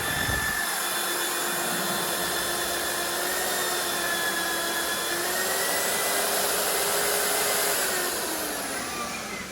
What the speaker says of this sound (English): So it only drills like half the steel out because it goes around the outside.